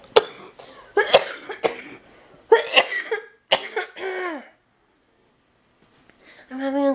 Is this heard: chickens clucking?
no